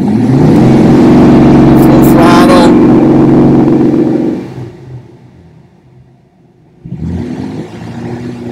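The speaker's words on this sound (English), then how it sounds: "Feathering the throttle, we can get a little bit of speed off of it" A Pontiac Firebird Trans Am engine with an ignition fault revs loudly under throttle with a gear shift, then drops to a low idle-like rumble before picking up again at partial throttle.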